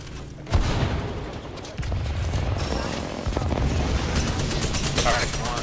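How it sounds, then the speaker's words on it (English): A grenade goes off in the battle royale Apex Legends with a sharp boom, followed by sustained gunfire and rumbling combat noise under a player's voice. "That's a nade."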